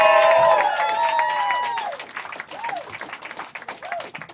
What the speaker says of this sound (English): Everyone start clapping right now for Yoni Heisler